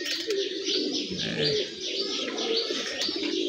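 High-flying pigeons fill the air with a steady mix of soft coos and sharp chirps, a dense overlapping chorus heard close and fairly loud with no talking.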